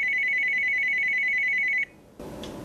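A telephone rings with one steady electronic tone that holds for nearly two seconds, close and clear, then cuts off into a hissy room background.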